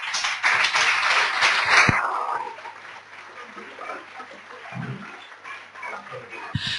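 A concert audience at Centro Sefarad Israel in Madrid claps to welcome a performer. The dense applause is loud at first, then fades away after about two seconds, leaving quieter room noise.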